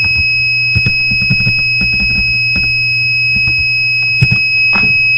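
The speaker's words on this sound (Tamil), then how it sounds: "இதே பீப் சவுண்ட் வந்து கொஞ்சம் விட்டு விட்டு கேட்கும்" An Arduino buzzer wired as an overheating alarm holds a steady, piercing high-pitched tone right through the clip, over a low electrical hum and a few soft clicks and knocks nearby.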